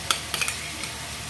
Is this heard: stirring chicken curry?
yes